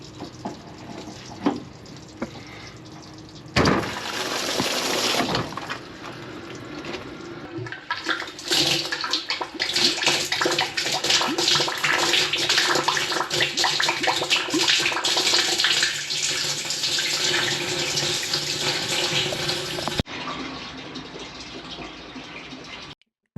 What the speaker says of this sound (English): connect my jetter to the tap on their wash bay